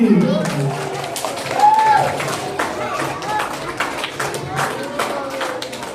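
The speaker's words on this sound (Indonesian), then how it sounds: "Tepuk tangan buat Mas Edi." Scattered clapping comes from a school audience during an anti-bullying and drug awareness session at an elementary school, irregular taps under a speaking voice, with a brief whistle-like tone.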